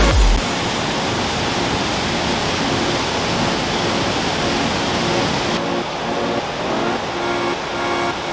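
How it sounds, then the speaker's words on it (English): Twister Falls on Eagle Creek in the Columbia Gorge, Oregon, pours in a loud, steady broadband rush of water with no breaks, heard close by and alone. "Look how the water is flowing here and twisting around."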